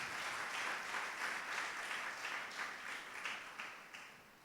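A church congregation claps together in steady, sustained applause, a dense wash of many hands that holds at a fairly even level and eases slightly toward the end.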